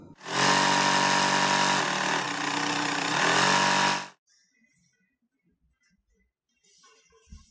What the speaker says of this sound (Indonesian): Saya sih pakai mesin jahit ya, karena lebih hemat waktu.